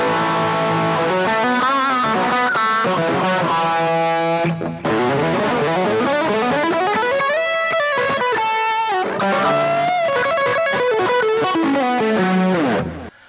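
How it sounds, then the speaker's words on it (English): An electric guitar on the bridge pickup with tone and volume turned fully up plays a loud, heavily distorted rock passage. Sustained chords and sliding notes run continuously, with a brief pause midway and no talking. "add a bit of distortion, use the bridge position, turn the tone up full, volume up full, and then you can get some rock sound"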